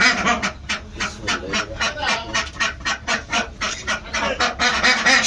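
Crowded ducks inside a duck farm in Bangladesh quack and honk in a loud, rapid, overlapping series of calls, close by and continuing without pause.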